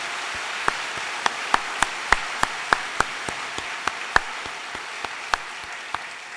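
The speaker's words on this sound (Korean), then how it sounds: "2015년 새해를 허락하신 하나님께 영광의 박수를 다시 한번 올려드리겠습니다." Members of a church congregation at a New Year's Eve service clap in unison for the new year. The sharp, evenly spaced claps repeat roughly every third of a second over a soft background hush, forming a steady rhythmic beat.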